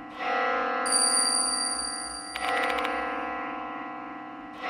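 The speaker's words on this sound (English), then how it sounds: "Where's this bell sound coming from?" A bell chimes in the horror video game Spirit Hunter: Death Mark II, ringing out with a sustained metallic tone and a second struck ring partway through, echoing over a low droning ambience.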